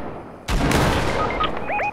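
Gunfire in the video game Fortnite: after a quiet start, a loud burst of rapid shots erupts and keeps rattling, with short electronic chirps and tones sounding near the end.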